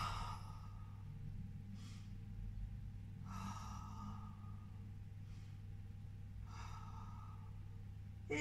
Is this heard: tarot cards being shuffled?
no